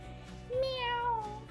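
A human voice imitates a black cat's meow, one drawn-out rising and falling call, close and clear against a quiet room.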